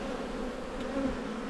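Honey bees hum steadily in an open hive being split after 18 frames of brood were found; a continuous low drone carries no voices over it.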